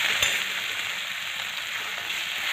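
Patri wild leaf greens mixed with salt, chutney and garlic fry in oil with a soft, steady sizzling hiss. It sounds close and even, with almost no stirring or clatter.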